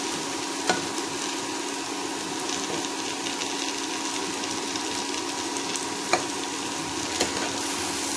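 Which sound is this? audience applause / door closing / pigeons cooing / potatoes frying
potatoes frying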